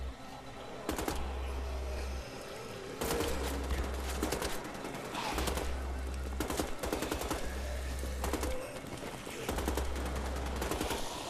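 Gunfire in the video game Wolfenstein: The Old Blood comes in repeated bursts of rapid automatic shots, loud and crackling, with a low droning hum between volleys and keyboard-like clicking mixed in.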